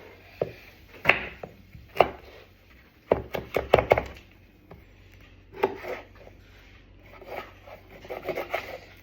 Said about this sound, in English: Chop the garlic.